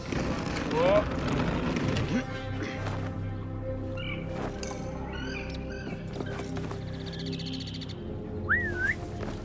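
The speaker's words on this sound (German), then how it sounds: "Warum hat er jetzt gepfiffen?" A character whistles in Assassin's Creed Mirage, a short rising-and-falling whistle heard near the end over a busy game soundscape of ambient music, birds and background chatter.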